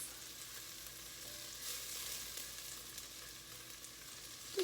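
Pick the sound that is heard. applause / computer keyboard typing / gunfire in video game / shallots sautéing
shallots sautéing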